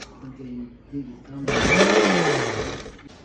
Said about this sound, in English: you're gonna add that to a blender and we're gonna blend that up